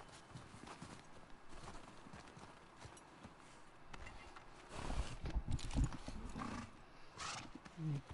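Hooves of the horse Roach clip-clopping in a video game, a soft rhythmic plodding that grows louder and heavier midway, with low ambient game sounds and a brief snort-like burst near the end.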